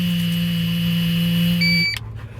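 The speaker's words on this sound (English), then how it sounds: "So that's what's beeping." Steady electronic beeping and buzzing tones after an off-road four-wheeler crash hold for about two seconds, then cut off abruptly with a short click and faint rustle.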